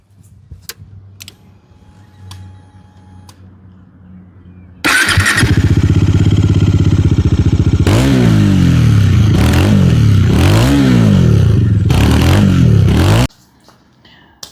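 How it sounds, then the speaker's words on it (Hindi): Triumph Speed 400 or Bajaj Dominar 400 motorcycle starting from quiet idle, then its exhaust rumbling loudly up close with several sharp revs rising and falling before cutting off. "So now I am going to start the bike and let's listen to the exhaust note."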